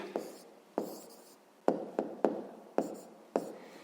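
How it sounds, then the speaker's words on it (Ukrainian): Pen writing an answer on paper during a fifth-grade maths exercise: a series of sharp, close scratchy strokes and taps, about eight separate marks in an irregular rhythm, with no talk. "а зараз записуємо відповідь, пишемо відповідь"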